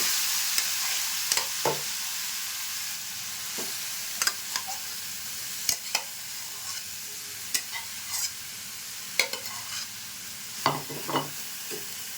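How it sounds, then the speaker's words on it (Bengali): Coconut filling stirred in a kadai, a soft steady sizzle under scattered scraping clicks of a spoon against the pan, irregular and close, with no voices. "একটা কড়াই বসিয়ে দিয়েছি নারকেলের ফুটটা এখানে দিয়ে দিচ্ছি"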